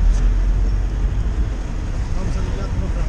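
Steady low rumble of a crowded minibus driving through Hurghada, heard from inside with continuous road and engine noise and a voice talking briefly.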